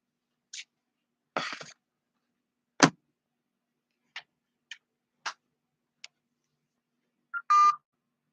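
A phone number tapped out on a keypad for a prank call: a string of separate short ticks and tones with pauses between them, ending in a brighter, longer electronic beep, with no voices.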